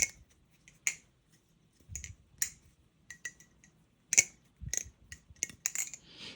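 A Shattered butterfly knife trainer on bushings is being flipped, giving sharp metallic clicks and snaps in irregular bursts, some single and some clustered, close and fairly quiet with near silence between them.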